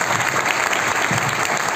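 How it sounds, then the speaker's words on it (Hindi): Loud, dense audience applause during a motivational speech in Hindi, a continuous wash of many hands clapping without pause, close and full. "एक बार जोरदार तालियां हो।"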